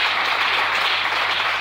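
A church congregation applauds, a dense, steady wash of clapping close and loud throughout the short stretch, with no speech over it.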